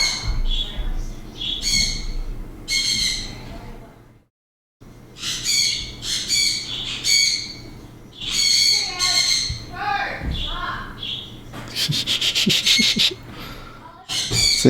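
A young bird squawks over and over in harsh, raspy bursts, loud and close, with brief pauses between the calls.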